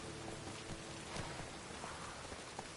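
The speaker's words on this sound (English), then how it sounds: "Rain again. Damn mages." Rain conjured by mages in The Witcher 3 falls steadily as a dense, continuous hiss across a surface, with scattered heavier drops and faint low rumbles underneath, no voices.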